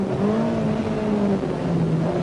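An Opel Manta 400 rally car engine drones steadily at speed on a rally stage, its pitch rising and falling as it is pushed hard, loud and close with no voices.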